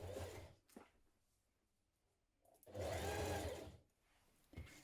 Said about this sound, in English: So we're going to stitch it close to the teeth down this side first of all.